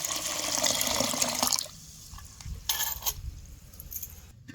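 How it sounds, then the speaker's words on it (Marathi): Water pours out of a vessel of soaked khapli wheat in a steady splashing stream for about a second and a half, then stops, followed by a few small clinks and rustles. "ही पाणी आता आपण ओतून काढूया"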